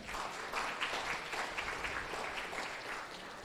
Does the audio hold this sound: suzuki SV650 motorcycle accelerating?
no